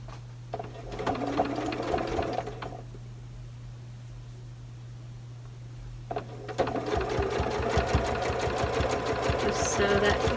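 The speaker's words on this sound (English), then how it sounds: "I do recommend that you sew this with a regular sewing machine and not a serger." A regular sewing machine stitching a shawl collar seam in two bursts of fast, close whirring with a quiet pause between, over a steady low hum.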